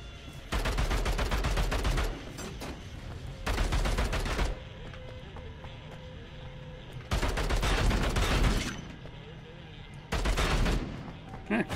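Automatic gunfire in Bunker Punks comes in four separate bursts, each a rapid rattle of shots lasting one to two seconds and loud and close. Quieter stretches of game ambience sit between the bursts.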